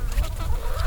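Chickens clucking in a backyard flock, a quick burst of close, low clucks over a deep rumble of wind.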